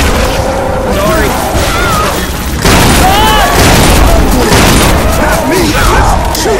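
Gunfire pours into the Tank in Left 4 Dead 2, loud booming shots and crashes layered with chaotic game noise, while players shout and talk over the din throughout.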